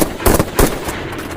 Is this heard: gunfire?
yes